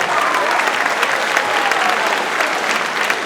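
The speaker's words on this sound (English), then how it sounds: "Students, give yourself applause." Auditorium audience at an eighth-grade promotion ceremony applauding the students, steady dense clapping from a large crowd with a few faint whistles, sustained for several seconds.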